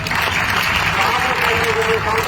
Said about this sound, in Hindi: इसलिए उनके लिए भी तालियां बजाना कहूंगा।